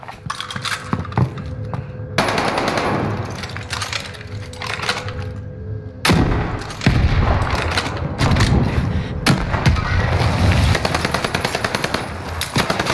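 Loud, sustained automatic gunfire from the Call of Duty Warzone video game, rapid bursts rattling continuously with a couple of short breaks and heavy, close-up impacts.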